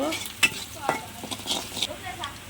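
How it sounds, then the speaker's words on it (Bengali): Onion and chopped garlic fry in hot oil in a home kitchen pan, with a steady sizzle broken by several sharp scraping stirs of a spatula, close and alone. "তেল দিলাম, পেঁয়াজ দিলাম, রসুন কুচি দিলাম। পেঁয়াজ রসুন লাল করে ভেজে নেব।"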